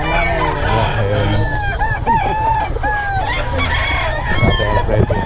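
Black hen clucking and crowing amid a busy festival expo crowd, steady bird calls repeating over constant background chatter and people talking nearby.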